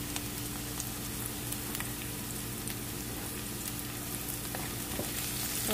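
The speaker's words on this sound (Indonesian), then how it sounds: "Kita tumis sampai harum." Chili peppers and spices sizzling steadily in a pan as they are sautéed, a continuous close, moderately loud crackle with faint stirring scrapes and no voices.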